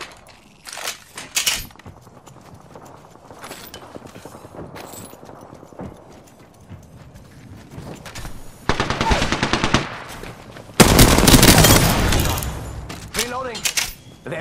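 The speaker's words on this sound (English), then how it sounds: "Getting shot at. Firing." Rapid automatic gunfire from a shooter video game, bursts rising to loud sustained volleys near the end, with a game voice calling out combat callouts between shots.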